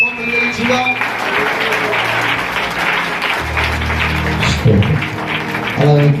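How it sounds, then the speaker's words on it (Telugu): A church congregation claps loudly in praise of God after prayer, a sustained roar of many hands that fills the hall, with musical tones and voices mixed underneath. "గట్టిగా చప్పట్లు కొడుతూ దేవునికి స్తోత్రం చెల్లించుదాం"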